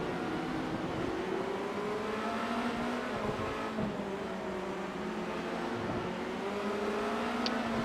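Formula Renault cars in a sim racing game battle for position at the hairpin of Okayama's circuit. Engines drone steadily and rise and fall in pitch as the cars brake and accelerate through the corner, heard fairly faintly with no voices.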